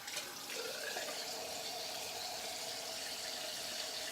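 Water runs steadily and close by for a face rinse during a straight razor shave, a continuous even splashing flow with no breaks.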